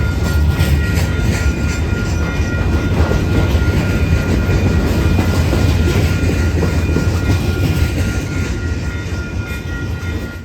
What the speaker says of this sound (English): This train also featured a fair amount of Pan Am and Gopher boxcars